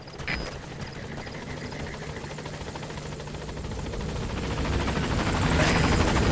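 A helicopter arrives at a landing zone in Metal Gear Solid V: The Phantom Pain, its rotor chop and engine whine growing steadily louder as it draws near, alone without talking.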